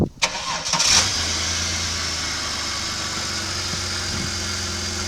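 A Holden Commodore engine cranks briefly and fires, then settles into a steady, loud, close-up idle.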